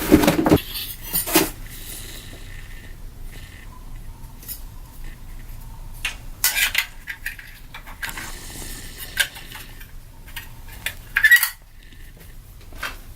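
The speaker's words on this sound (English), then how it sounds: "Grease this up. Throw on the crank sprockets." Metal parts clink and clatter while crank sprockets are fitted onto a Mitsubishi 4G63T engine during a timing belt job, giving scattered close knocks and scrapes with quiet gaps between them.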